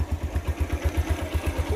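Motorcycle engine idling nearby, a loud steady low thumping pulse at an even rapid rhythm with light mechanical clatter, no talk over it.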